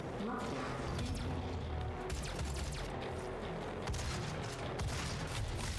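Rapid gunfire from shooting demons in DOOM (2016), a dense, continuous volley of loud shots and clanking mechanical game effects filling the whole stretch without let-up.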